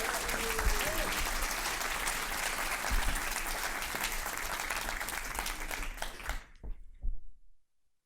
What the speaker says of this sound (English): Please give a big, big round of applause to Tracy Chong